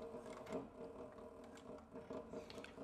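A sewing machine backstitching a leather Pony Express satchel, heard as a quiet, steady rhythmic needle chatter with faint mechanical ticking, close and alone.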